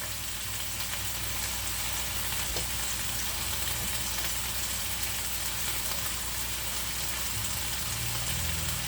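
Potatoes sauté in oil in a pan for Calabrese peperonata, giving a steady, dense sizzle and crackle that runs evenly without a break, close and fairly loud, with no talking.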